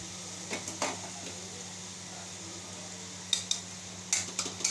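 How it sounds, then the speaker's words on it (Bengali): Spice paste with ginger sautéed in a pan, a low quiet sizzle under a steady hum, broken by a few sharp spoon-on-metal clinks and scrapes from stirring. "মশলাটা ভালো করে কষিয়ে নিচ্ছি"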